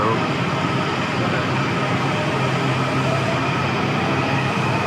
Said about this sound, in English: Another train going that way too. One going that way, one going the way we just came.